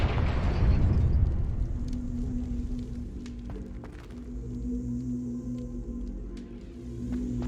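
A Confringo fire spell bursts in the Hogwarts Legacy video game, a loud low explosive boom at the start that fades into a rumbling tail with scattered footsteps and light game effects.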